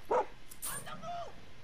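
A dog in the video game Far Cry 6 lets out a sharp yelp, followed by a thin, wavering whimper, all fairly faint against a quiet game background.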